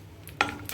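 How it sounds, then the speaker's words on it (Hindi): Cinnamon sticks and cardamom dropped into leftover hot oil in a pan, giving a quiet sizzle that flares up twice in short bursts, close by, with no speech. "अब ये जो बाकी बचा हुआ तेल है इसी में बनेगा। तो ये मैंने डाल दी सिनेमन स्टिक्स और कार्डमम।"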